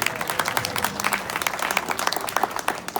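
An audience at a scholarship ceremony breaks into applause, a crowd of individual claps rattling at moderate volume and fairly close, uneven in intensity, with a faint murmur of voices beneath.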